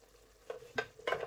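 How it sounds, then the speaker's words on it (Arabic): Chicken fries in a pan in a home kitchen, with a few short bursts of sizzling and stirring over a quiet background, faint and close, with no talking. "غادي نخليو داك الفلا تقلى شويه"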